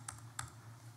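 Tab key pressed on a computer keyboard during a software presentation, two quick faint clicks a fraction of a second apart over quiet room tone.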